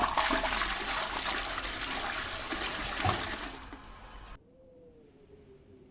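A toilet flushes in a video game, a loud full rush of water that runs steadily for about four seconds and then cuts off abruptly, leaving only a faint low hum.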